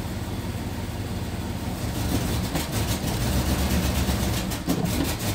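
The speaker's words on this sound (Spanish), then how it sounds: "Vamos a dar un acelerón a ver." Chevrolet Cheyenne pickup engine with a power-loss, no-acceleration fault, revved during diagnostics; a steady low rumble swells slightly with a brief rise in the middle, close and continuous with no talk.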